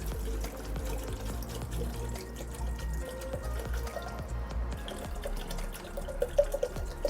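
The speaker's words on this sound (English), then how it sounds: "So I'm going to add some water here." Water poured into a tank serving as a reservoir for a smart farm irrigation system, a continuous splashing, gurgling flow with scattered drips, close and steady throughout, no talk.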